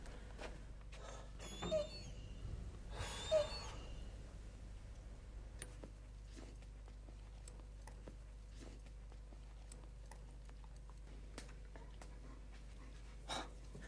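A puppy pants softly and steadily nearby in a quiet indoor space, with light breathy rhythm, a few brief rustles and occasional faint ticks or taps.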